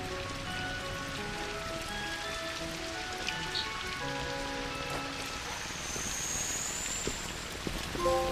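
Steady, soft rainfall patters on a hard surface inside a tram car in a video game, an even hiss with scattered drops, faint and continuous with no voices, set against low ambient tones.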